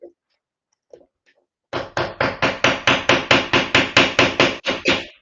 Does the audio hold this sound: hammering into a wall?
yes